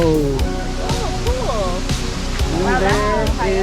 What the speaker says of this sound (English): And there is Eugenia Waterfall.